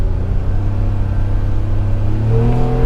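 Engine of a new Polaris Ranger 1500 UTV droning loudly and steadily while driving in two-wheel-drive sport mode, the low rumble building and pitch rising near the end as it revs up.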